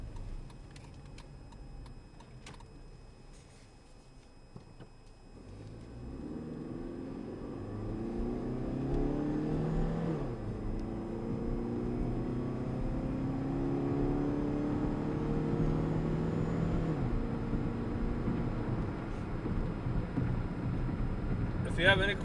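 A 2008 Chrysler PT Cruiser with a 2.4-litre four-cylinder and automatic transmission ticks softly at first, then accelerates with a rising, steady engine hum heard from inside the cabin.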